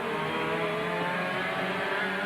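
Touring cars racing at Amaroo in the 1989 ATCC round give a steady, loud, dense engine roar with sustained harmonic drone throughout, no pauses or talk.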